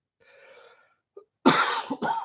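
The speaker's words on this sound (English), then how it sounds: "Pardon me with my cough." A person gives a few sharp, close coughs in a quiet room during a television episode review, after a faint murmur of background noise; the coughing comes in short bursts without speech.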